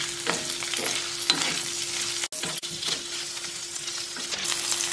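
Mashed boiled potato with chillies and salt sautés in a pan, a close, steady sizzle broken by repeated spatula scrapes and stirs and a brief dip to near silence partway through, with no talking.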